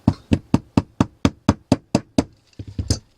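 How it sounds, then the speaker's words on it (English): Repeated sharp metallic knocks as a pin is tapped into a Samsung Gear S3 watch bracelet, about ten evenly spaced hits followed by a quicker cluster of lighter taps, close and clear with no talk. "so just knock it in so it's flush, so it doesn't catch"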